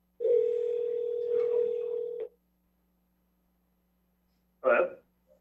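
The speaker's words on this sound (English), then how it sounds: "Dr. Osman, we're trying to call you on your phone" A conference-room telephone line gives a steady electronic tone for about two seconds, then silence and a brief second beep, clear and close.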